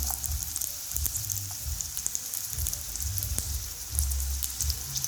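Garlic, chopped onion, tomato and dried red chillies frying lightly in a pan for an okra masala curry, giving a steady close crackle and sizzle with scattered pops throughout, no voices.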